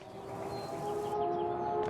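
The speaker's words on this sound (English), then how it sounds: "suddenly we hear a siren blare" A siren of the kind used to warn of mining blasts blares with a sustained, steady wailing tone that swells slightly louder partway through, heard alone without voices.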